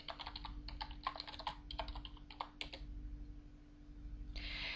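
A command typed on a computer keyboard while playing a text-based MUD game, heard as quick bursts of close, crisp key clicks in uneven clusters, followed by a pause and then a short final burst.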